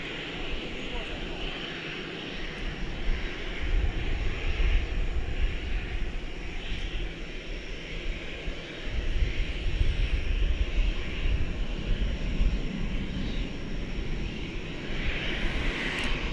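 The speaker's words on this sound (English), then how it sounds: "So Flight 732 is now rolling down runway 17 right" At DFW Airport, a distant airliner rolls down runway 17 right with a steady engine roar and whine. The sound builds slightly over the span, and a person talks over it.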